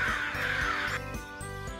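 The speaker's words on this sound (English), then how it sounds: "Why are the birds chirping so loudly all of a sudden?" Crows caw loudly and repeatedly in a forest, harsh calls arriving in a steady rhythm of several bursts, close and prominent with no talk.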